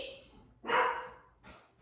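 Pet dogs let out two sharp barks, the first loud and close, the second shorter and quieter, with a faint high tone at the start and quiet gaps between.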